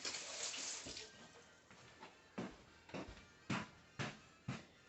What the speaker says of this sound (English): Rinse, give it a good rinse.